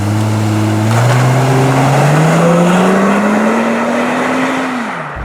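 A Plymouth Prowler roadster driving with its top down, engine note droning steadily and rising in pitch as it accelerates through a gear, loud and close, then dropping away at the end.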